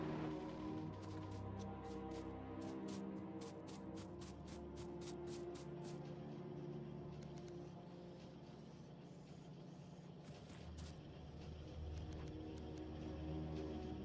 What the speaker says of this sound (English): Let's hop in the car and let's head over there.